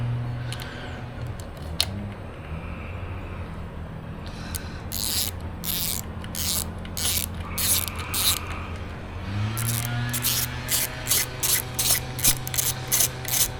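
Ratchet wrench clicking in quick repeated bursts as a bolt is tightened on a Honda Grom motorcycle, several close, crisp runs of pawl clicks over a low background hum.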